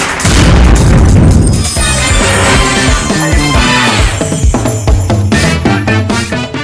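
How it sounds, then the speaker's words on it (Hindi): Israeli bombs falling on residential areas of Gaza give a loud, booming blast that roars and rumbles, followed by crashing debris and a string of further sharp impacts and cracks. "गाजा पट्टी के रिहायशी इलाकों में इजरायली बम गिरने का वीडियो आया सामने।"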